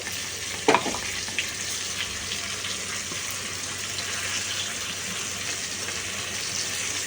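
Cabbage is stirred with spice paste in hot oil in a pan, making a steady frying sizzle throughout, with a brief scrape of the utensil near the start.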